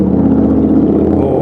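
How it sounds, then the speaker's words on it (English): Street noise heard from a bike riding east along the Danforth in Toronto's Greektown: a steady, loud engine rumble from passing traffic close by, with no break in the sound. "We have street noise and visuals and sounds of the streets in Toronto."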